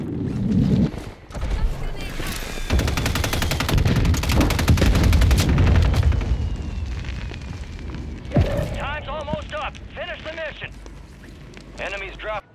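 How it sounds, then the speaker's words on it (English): Heavy gunfire and booming blasts in a video game match, a loud dense barrage for several seconds that tapers off as voices take over. "They're shooting in on me"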